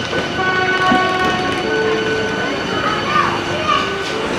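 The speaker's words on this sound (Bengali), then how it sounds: "লোকাল ট্রেন বটে" A local train on a journey around Visakhapatnam gives a loud, steady rumble with a faint rhythmic clatter and tonal whine throughout, while people chatter and call out nearby over the noise.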